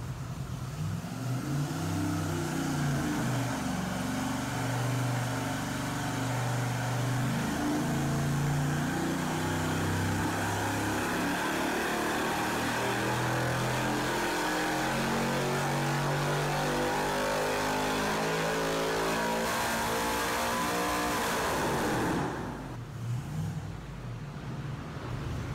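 A 4.8-liter engine fitted with a VS Racing 7875 turbo roars steadily through a test run, its loud harmonic drone rising and shifting in pitch for over twenty seconds before cutting off abruptly near the end.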